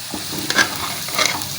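Ground coriander and cumin get stirred in a hot frying pan. Scraping strokes sound in two short bursts over a light, close sizzle, with no voices.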